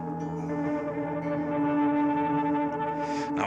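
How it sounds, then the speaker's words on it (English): Guitar tone run through a Boss GT-1000 Core, distortion placed ahead of the reverb with only the wet signal, sustaining thick layered harmonics that ring steadily and fairly loud, with a brief noisy swell near the end. "Now what happens if we put the distortion over the reverb?"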